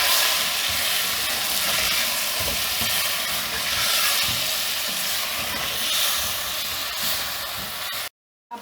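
Chicken frying with yogurt, crushed chili, salt and cumin during bhunai, a loud continuous close sizzle and hiss with stirring scrapes, cutting off abruptly near the end.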